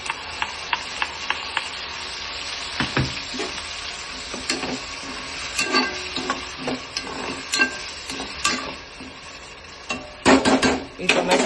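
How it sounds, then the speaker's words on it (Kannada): Tomato puree frying in oil in a pan for paneer biryani, a steady close sizzle broken by irregular scraping clicks of a stirring spoon, louder bursts of stirring near the end, no voices. "ಈ ಟೊಮೆಟೊ ಪ್ಯೂರಿ ಆಯಿಲ್ ಬಿಟ್ಕೋವರೆಗೆ ಬೇಯಿಸೋಣ."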